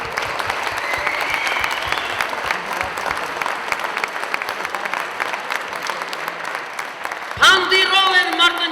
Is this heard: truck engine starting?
no